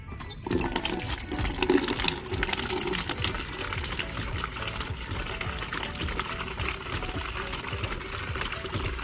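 Water gushing steadily into a container in a rural yard, a loud continuous rushing and splashing that persists throughout.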